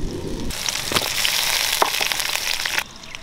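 Tomatoes hit a hot pan with a sudden loud burst of sizzling that spits and crackles for about two seconds, then drops to a quieter hiss, while cooking a jackfruit seed gravy in a village kitchen.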